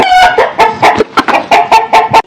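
A cartoon chicken clucks in alarm, giving a rapid run of about eight loud, sharp clucks in a quick, uneven rhythm, close up with no other sound.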